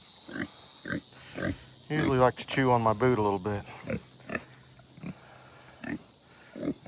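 Pigs grunt in short bursts at close range on a farm during evening chores, with a person talking over and between the grunts.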